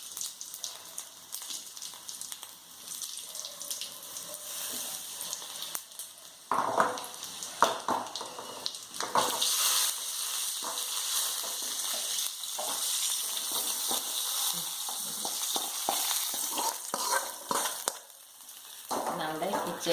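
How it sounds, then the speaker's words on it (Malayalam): Dried red chillies frying in hot coconut oil with popped mustard seeds, a continuous soft sizzle and crackle with occasional stirring, fairly quiet and close. "കടുക് പൊട്ടിയതിലേക്ക് മുളക് ഇട്ട് കൊടുക്കാം."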